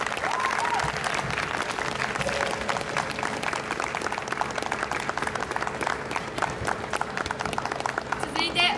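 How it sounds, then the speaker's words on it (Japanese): Outdoor audience applause at a Chinese New Year street performance in Yokohama Chinatown, honoring a middle school brass band; dense, steady clapping sustained throughout, with crowd murmur and voices mixed in. "この小さなアイドルにもう一度大きな拍手をお願いします"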